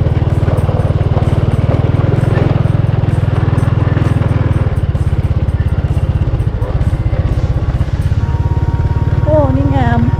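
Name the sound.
motorcycle riding through a river in first gear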